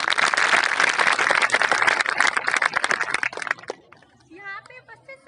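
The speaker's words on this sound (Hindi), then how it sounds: "उनके लिए आप सब लोग प्लीज एक बार जोरदार से ताली बजाएं।" Audience applause at a 2022 women's empowerment event in India: about three and a half seconds of dense, loud clapping that cuts off abruptly, followed by a voice starting to speak.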